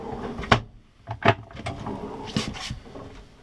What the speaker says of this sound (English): Another drawer here.